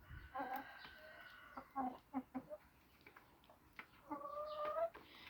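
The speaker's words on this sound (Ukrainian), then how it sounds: "Кури, все їдять." Chickens cluck in short bursts and drawn-out calls, fairly close, against a quiet farmyard background with no talking.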